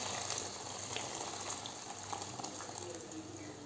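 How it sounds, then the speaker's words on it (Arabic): Hot water is poured into a pot of okra stew with meat, a steady broadband rush of liquid running throughout, close and fairly loud with no voices. "هلا راح اضيف مي السخنة"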